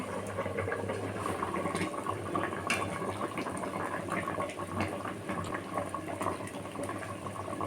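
Eggplant and fried fish simmer in a pot for a Bengali curry, giving a dense, bubbling liquid burble with a low steady hum beneath, continuous and close.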